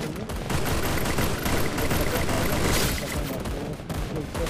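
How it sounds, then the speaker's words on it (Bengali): Rapid gunfire from the Free Fire mobile battle game, dense overlapping bursts and volleys firing continuously and loudly throughout without pause. "সামনে কেউ গুলি চলছে"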